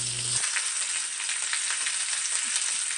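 Oxtail pieces browning in a hot pan give off a steady, close sizzle that stays even and loud for the whole stretch, with a short low thump near the very beginning.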